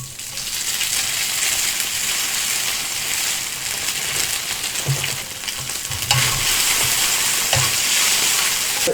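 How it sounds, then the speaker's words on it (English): Loud, continuous hiss and crackle of garlic frying in smoking-hot oil, with occasional soft knocks from a utensil in the pan. "Get it hot enough so that it starts smoking a little bit, so that it sizzles."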